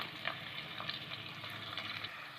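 Chopped onion frying in oil in a pan for peas masala rice, a steady close hiss and sizzle with small crackling pops throughout, without talk.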